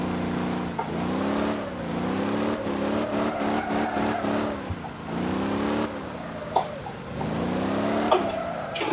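Pickup truck engine in the driving game Motor Town, revving hard in repeated rising and falling sweeps as gears climb, loud and close, with a few small knocks between pulls.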